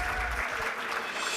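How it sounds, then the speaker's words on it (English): Applause from the audience at a summit session honouring influential Arab women, a steady broadband wash of clapping filling the short moment at moderate loudness. "I think that deserves a special clap"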